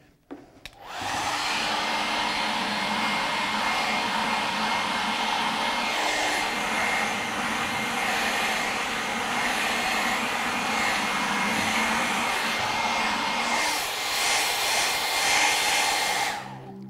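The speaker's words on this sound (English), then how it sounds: "So you just take the hair dryer and blow it in there." A hair dryer blows steadily at close range, a loud continuous whooshing drone that starts abruptly and runs unbroken with slight surges near the end.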